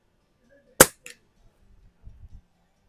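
A Walther LGR air rifle firing a Vogel pellet, one sharp close crack followed by a brief fainter report, then quiet low rustling.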